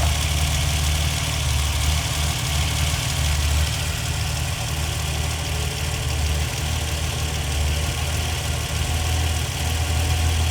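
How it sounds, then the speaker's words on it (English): A freshly tuned 1960s Ferrari V12 idles smoothly after carburettor adjustment, producing a constant deep hum and a light mechanical rattle that hold even throughout, with no voices. "There again, the engine notes increased, which means that's better, working more efficiently."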